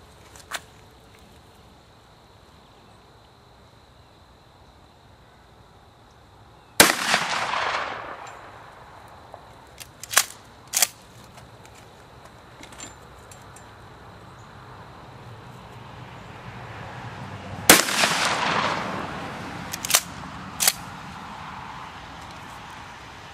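Rifle shots ring out while a new-barrelled rifle is sighted in from a lead sled at a range, two loud sharp cracks with a few lighter pops in between, each trailing off against quiet outdoor background.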